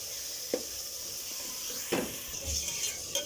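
Minced beef keema sizzling and frying in a pan, a continuous hiss broken by a few scraping stirs of a spoon against the pan.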